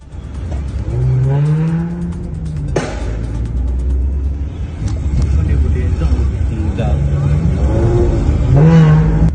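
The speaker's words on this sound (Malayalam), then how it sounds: "ഭീതിപ്പെടുത്തുന്ന ശബ്ദത്തിൽ കൊച്ചി നഗരത്തിലുള്ള ഒരു ആഡംബര കാർ ചീറിപ്പാഞ്ഞുപോയി." A luxury car with Dubai registration roaring through Kochi city streets, a loud deep engine rumble with rising revs and a sharp crack, close and continuous under a voice speaking.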